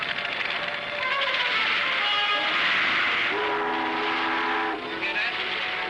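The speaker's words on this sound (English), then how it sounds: "Sounds like a boat whistle." A long, sustained boat whistle blowing steadily, loud and tonal, holding for several seconds with a slight shift in pitch partway through and a brief dip near the end, over a constant background rumble.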